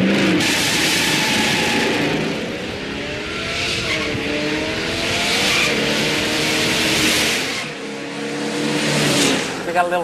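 A muscle car launches hard off the line at a drag strip, its engine roaring loudly with rising revs and tire noise, close by, fading somewhat before another surge near the end.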